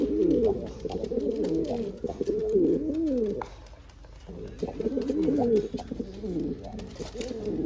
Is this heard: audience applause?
no